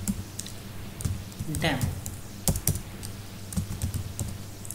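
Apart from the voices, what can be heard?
typing on a computer keyboard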